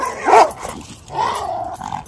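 Small dogs growling and scuffling in a brief fight, a sharp snarling burst followed by a lower sustained growl, close and loud.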